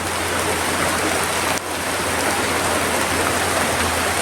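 Heavy rain pours down at a Thai temple, a loud, constant hiss that barely changes, with one short dip partway through and no voices.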